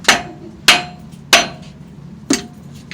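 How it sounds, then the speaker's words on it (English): Four sharp hammer blows strike metal to seat an engine part, spaced roughly evenly with a pause before the last, loud and close with no talk. "Where's my hammer? Give me the hammer."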